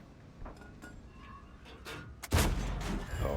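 Tank cannon shot in World of Tanks, a sudden loud booming blast late in the clip that rings out with a rumbling tail, after a stretch of quieter game noise.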